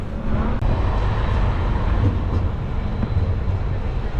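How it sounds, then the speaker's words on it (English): An Edinburgh tram passes along a city street, a loud steady rumbling roar with faint rattles and squeaks on top, lasting several seconds without fading. "they've got a tram system in Edinburgh"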